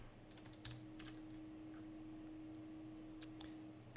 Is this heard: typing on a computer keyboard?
yes